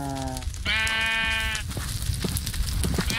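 Sheep in the Minecraft modpack Sevtech Ages bleat close by: a short bleat, then a longer wavering one, followed by softer shuffling game sounds.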